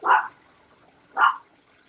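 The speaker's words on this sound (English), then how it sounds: "Of course, my dogs are going to start barking." Two sharp barks from dogs, a moderately loud yelp near the start and a second about a second later, with faint trickling water from a backyard aquaponics system in the background.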